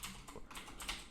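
Faint, quick typing on a computer keyboard, soft clicks running together under a steady background hiss, with no speech.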